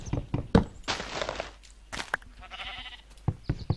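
Sheep bleating in Tekkit, a modded Minecraft, with a few short wavering bleats mixed with soft thunks and blocky footstep sounds nearby.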